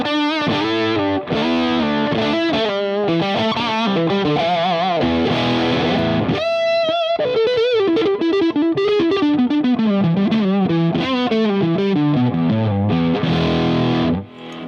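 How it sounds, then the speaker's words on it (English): Electric guitar played through an MXR Raijin Drive pedal set to distortion mode, a steady run of thick, saturated riffs and sustained chords at high level for the whole stretch, with a brief cleaner-sounding sustained note midway. "so I'll flip it to distortion mode."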